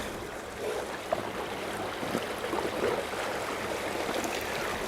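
Small boat running at maximum speed through choppy water in fairly strong wind, a steady broad wash of spray and hull noise with no voices.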